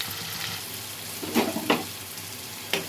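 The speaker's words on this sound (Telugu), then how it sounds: "ఆనియన్స్ వేసేసుకుందాం ఫ్రెండ్స్. కొంచెం ఉప్పు వేసుకొని వేయించుకుందాం" Onions with salt frying in hot oil, a close steady sizzle with a few louder scrapes and clatters as they are moved around the pan.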